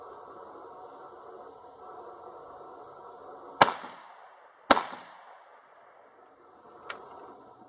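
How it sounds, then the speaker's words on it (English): A side-by-side 16 gauge shotgun fires two loud, sharp shots about a second apart at a distant can, each blast echoing and decaying, followed by a fainter third report, over a steady outdoor hiss. "I'm just going to shoot at one of the cans that's further out down there"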